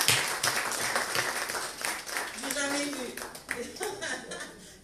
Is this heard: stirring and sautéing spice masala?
no